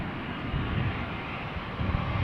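An Airbus A320 operated by Qatar Airways on arrival at Amsterdam Schiphol gives a steady, loud, broadband jet engine roar with rumbling low end, continuous throughout and no voices.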